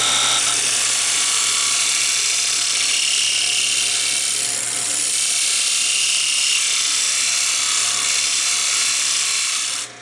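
A wood lathe spins a tea light holder blank as it is turned, a continuous loud whirring drone with steady high hiss, holding almost unchanged for about ten seconds before cutting off at the end.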